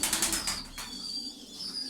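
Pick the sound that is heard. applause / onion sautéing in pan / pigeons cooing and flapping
pigeons cooing and flapping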